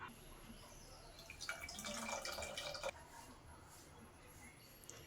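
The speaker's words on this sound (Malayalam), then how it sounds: "നമുക്കിനി ഇതിലേക്ക് പുളി ഒഴിച്ച് കൊടുക്കാം." Tamarind water is poured into a pot of papaya and taro seed curry, making a soft, brief splashing pour of a second or so within a quiet kitchen backdrop.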